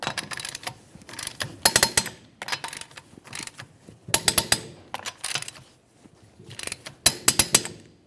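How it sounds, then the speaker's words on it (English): A torque wrench ratchets in short bursts of rapid clicking, tightening rear upper control arm bolts on a 2012-2018 Nissan Altima in a crisscross pattern, with quiet pauses between each burst. "we'll torque these to 83 foot-pounds in a crisscross manner"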